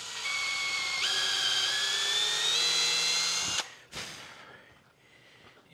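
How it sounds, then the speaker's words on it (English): A power drill whines steadily at high pitch for a few seconds as it bores into walnut, then stops abruptly; a short clatter follows. "drill through that piece of walnut"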